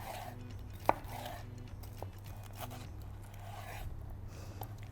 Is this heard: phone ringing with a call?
no